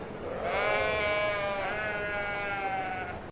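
Young lambs bleating, a single drawn-out wavering cry followed by a second, close and fairly loud against a quiet background.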